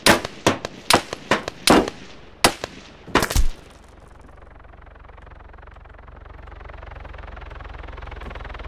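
Sharp, loud gunshots crack in an irregular burst in Arma 3, about ten close reports over three seconds, then fading into quiet background rumble.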